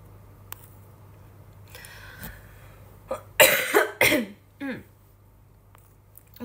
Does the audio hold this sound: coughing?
yes